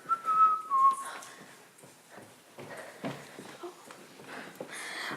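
A person whistles a brief bright two-note phrase up close, followed by quiet clopping and shuffling sounds in the background.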